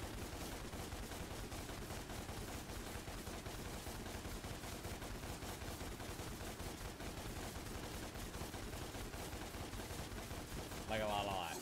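Sustained gunfire roars throughout a DmC Devil May Cry combat sequence, dense rapid shots blending into a constant, loud rattle with no pauses.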